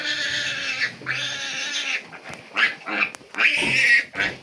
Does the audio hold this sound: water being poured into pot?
no